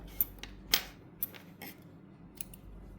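Scissors cutting crochet yarn: several crisp little snips and metallic clicks spread over a few seconds, close and quiet, with no voice.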